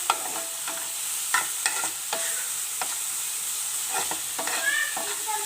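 Chopped capsicum fries in a pan with a bright, close sizzle, punctuated by frequent spatula clicks and scrapes as it is stirred.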